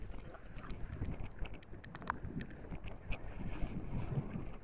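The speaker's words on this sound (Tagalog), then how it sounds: "lakas ang hangin" Gusty wind buffets the microphone in a continuous low roar with uneven surges, loud and close throughout.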